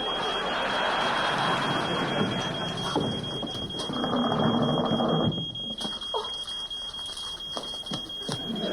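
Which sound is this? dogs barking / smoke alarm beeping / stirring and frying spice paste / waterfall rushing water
smoke alarm beeping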